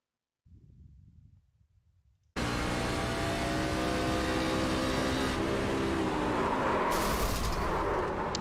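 A race car engine in a sim racing event at Charlotte bursts in loudly after a faint muffled rumble, roaring at high revs with pitch shifts suggesting a downshift, continuous and close with no talking.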